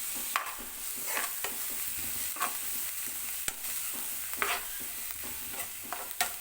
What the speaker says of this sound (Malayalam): നമ്മുടെ വെളിച്ചെണ്ണ നന്നായിട്ട് ചൂടായി വന്ന ശേഷം നമുക്കിതിലേക്ക് നമ്മൾ ചെറുതായിട്ട് അരിഞ്ഞു വെച്ചിരിക്കുന്ന സവോള ഇട്ട് കൊടുക്കുക